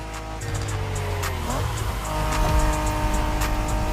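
A Honda NSX engine in a video game hums steadily with harmonic drone, rising slightly in pitch as it accelerates, with faint tire noise underneath and possible voices.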